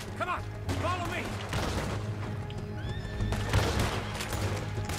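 Horses whinny and neigh repeatedly in the game Red Dead Redemption 2, with hoofbeats clip-clopping underneath. Rumbling noise and other game sounds run throughout, and the neighs are fairly close and prominent.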